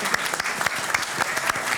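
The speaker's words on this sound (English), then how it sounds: "Let's give an early round of applause for Will Scharf and Elad Gross." An audience claps in a steady, lively round of applause at a Missouri Attorney General candidate forum, dense hand claps filling the moment from start to finish.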